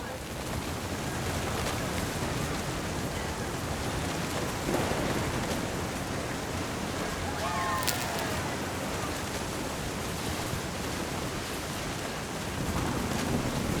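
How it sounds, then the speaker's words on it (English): Steady rain pours with a low rumble of thunder in the video game Depression, a dense wash of noise throughout with one brief sharper crackle partway through. "Thunder sounded much too close and full of angry power."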